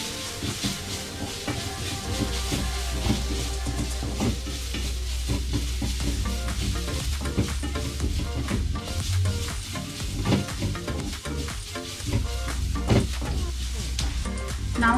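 Homemade masala paste fries and sizzles in a pan while being stirred, with a steady hiss and scraping stir strokes throughout; a low hum and background voices sit underneath.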